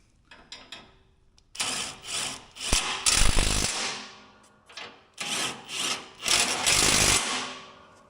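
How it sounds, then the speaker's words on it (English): An impact wrench with a socket tightening bolts while a bumper is installed on a Cub Cadet XT1 lawn tractor, giving several loud bursts of rattling hammering at close range, each lasting about a second, with short pauses between them. "And I got a socket here on my impact."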